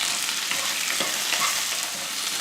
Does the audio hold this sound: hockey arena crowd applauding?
no